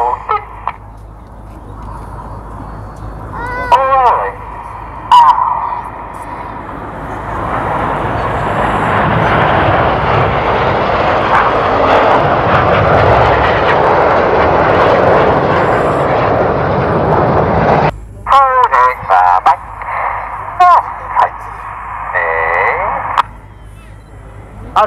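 Red Arrows display team jets pass in formation, a loud roar that swells and holds for several seconds before cutting off, with commentary and crowd sound around it.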